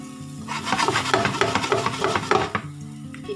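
Meatballs brown in hot oil in a pan, stirred and scraped with a rhythmic rasping over a soft sizzle, close by and without talk.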